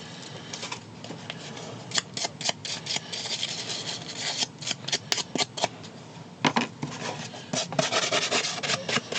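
Steady rasping and scuffing as micro scratches are worked into painted Mandalorian armor for weathering, a close, continuous abrasive rubbing with rhythmic bursts of stroke sounds and no talk.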